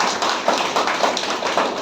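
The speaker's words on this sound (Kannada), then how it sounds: "ಎಲ್ಲರೂ ಚಪ್ಪಾಳೆ ತಟ್ಟಿ." An audience at a spiritual class in Kolar, Karnataka claps together, a quick run of close, sharp, evenly spaced hand claps.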